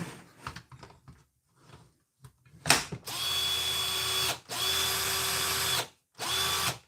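A Draper cordless drill converted to run on a DeWalt Flexvolt battery whirs in three bursts on its first speed setting, each run a few seconds long, with short pauses between them and faint handling noises before the first run.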